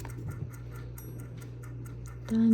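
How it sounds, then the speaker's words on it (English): A clock or timer ticks steadily in a quiet room, a soft regular pulse over a low hum, ending with a sudden louder tonal beep or chime at the close. "My timer."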